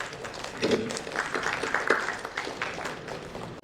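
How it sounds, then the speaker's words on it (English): An audience at a tech talk on open-source hospital software claps to welcome a speaker, a fairly soft, uneven patter of hands mixed with nearby voices. "Let's welcome him with a great round of applause"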